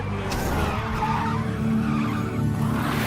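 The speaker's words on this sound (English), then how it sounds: "driving Tony back from a meeting with Phil, they get into a car accident." Car tires skid and screech loudly during a crash, a sustained harsh squeal over a rumbling engine drone that carries on without pause.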